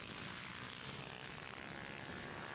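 A racing minibike engine at full revs on the Kirkistown circuit during an Irish Minibike Championship race, heard as a dense, steady, buzzing roar that fills the whole clip without a break.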